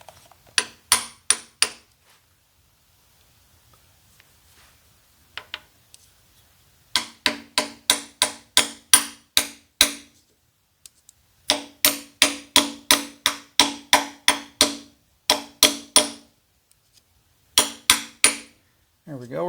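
Hammer tapping on the aluminum engine block of a 1995 Ford F150 under rebuild, struck in sharp metallic bursts of about six to ten quick blows separated by pauses, close and loud with no talk.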